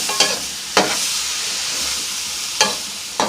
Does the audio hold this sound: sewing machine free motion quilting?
no